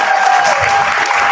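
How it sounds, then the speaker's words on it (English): Loud, dense applause from a crowd of a few hundred people in a room at a candidacy announcement for First Selectman in Trumbull, Connecticut, sustained and even throughout, with a steady tone ringing faintly beneath the clapping. "give yourselves a round of applause"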